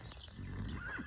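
A horse on a rural vegetable plot gives a short, faint whinny that rises and falls in pitch, with quiet outdoor background around it.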